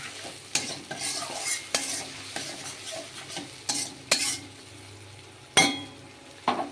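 Spice paste mixed with water goes into a pan of rohu fish curry with mango and sizzles steadily, broken by repeated scraping stirs and occasional metal clinks, with no talking.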